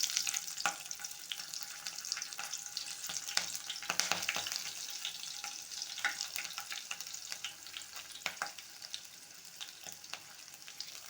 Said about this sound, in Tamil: அதுக்கப்புறம் 3 பச்சை மிளகாய்